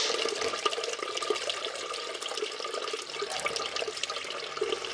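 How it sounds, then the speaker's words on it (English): Fermented homebrew beer drains off during racking in a small home brewery, a steady continuous trickle and splash of liquid flowing close by, with no talking. "So I'm now draining off the fermented beer."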